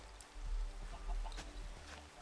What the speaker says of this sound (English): The brewing chickens are back.